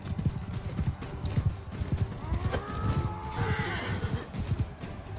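A horse clip-clops along in Mount & Blade 2: Bannerlord, a steady rhythm of hoofbeats close by, joined midway by a drawn-out neigh.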